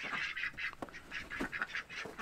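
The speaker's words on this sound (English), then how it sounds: "She is a female khaki Campbell. You can see she's quacking." A female Khaki Campbell duck quacks close by in a quick series of loud, raspy calls at an uneven rhythm.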